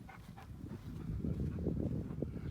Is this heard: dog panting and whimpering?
yes